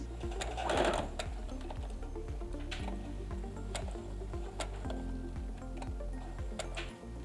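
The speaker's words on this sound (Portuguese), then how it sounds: "nós vamos para a máquina e vou passar a costura reta em volta" Sewing machine running a straight seam around felt, a steady close mechanical whir with rapid rhythmic needle thumps and occasional light clicks throughout.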